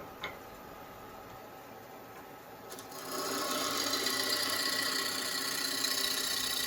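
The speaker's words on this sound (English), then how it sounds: "I'm just using a few different cuts to flatten off the face of the blank." A wood lathe spins a bowl blank as a gouge flattens its face. Quiet motor hum gives way to a louder, sustained hissing scrape of the cut that continues to the end.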